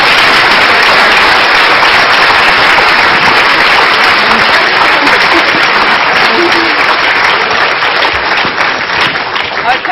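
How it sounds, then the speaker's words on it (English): An audience at an academic lecture gives a loud, continuous round of applause that fills the whole stretch, a dense wash of many hands clapping at once. "I'm going to ask us to clap."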